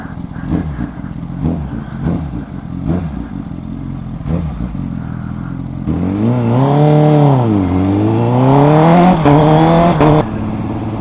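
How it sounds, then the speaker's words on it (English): A 2017 Honda CBR1000RR Fireblade fitted with a Graves Racing slip-on exhaust idles with a few short blips, then revs up loudly and sweeps down and up again, close and rasping. "this exhaust feels, or sounds, sorry, incredibly Italian with the Graves Racing slip-on that I've got on it"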